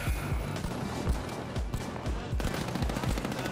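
Gunfire from the video game The Finals, a rapid run of punchy shots in a steady, repeating rhythm, close and loud over constant game background noise.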